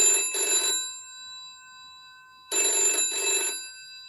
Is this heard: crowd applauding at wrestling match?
no